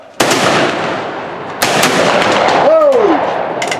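A volley of black-powder rifles fired together at a Victorian rifleman shoot in Bowling Green, Kentucky: a loud, sharp crack followed by a second burst and a lingering rumbling echo.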